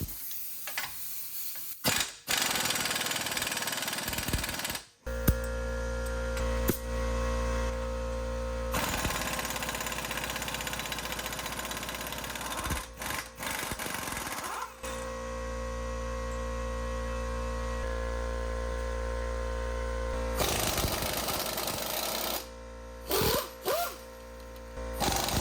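A power tool spinning off a 32 mm wheel hub nut on a 2009 Lincoln MKS, loud whirring bursts in several long runs separated by short pauses and clicks, close up with no talking.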